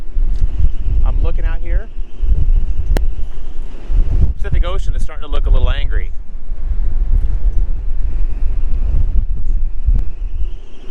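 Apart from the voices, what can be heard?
strong wind blowing on a boat by the Pacific Ocean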